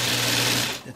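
Sewing machine running steadily while top-stitching a shirt collar with a collar-stay pocket, a close, even mechanical whir that holds for most of a second, then slows and stops near the end.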